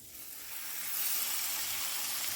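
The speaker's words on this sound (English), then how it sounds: "And you can hear that beautiful sizzle." Butter sizzling in a pan over high to medium-high heat, a steady bright hiss that swells louder after the first second and holds, with no talking.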